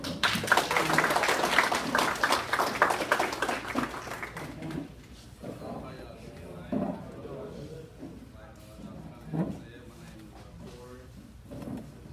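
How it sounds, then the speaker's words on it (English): An audience at a testimony talk breaks into loud clapping for several seconds, which then fades into scattered claps as talking carries on. "let's give him a round of applause"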